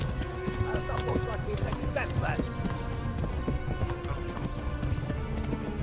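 A horse gallops in Kingdom Come: Deliverance, with steady, rapid clip-clop hoofbeats and a neigh partway through, loud and continuous under game sounds and a voice.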